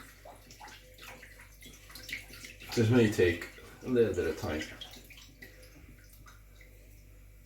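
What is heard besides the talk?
water being poured and stirred to dissolve sea salt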